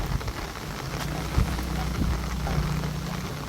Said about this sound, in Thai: ฝนตกปอแปะปอแปะ